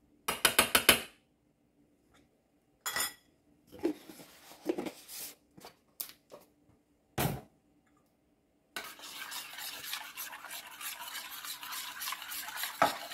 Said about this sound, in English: Mix it very good.